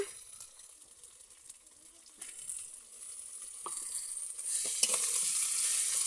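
Ginger, garlic and cumin paste fries with lightly browned onions for a fig curry, giving a low continuous sizzle that grows brighter and louder toward the end, with scattered utensil clicks and scrapes, close up and with no talk.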